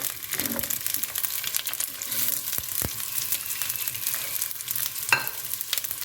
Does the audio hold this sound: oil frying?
yes